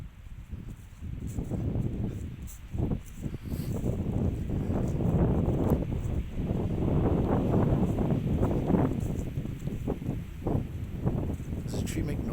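Wind gusts and roars through the trees in the woods while scouting for whitetail deer, a broad rushing noise that rises and falls and stays loud, with heavy buffeting against the microphone.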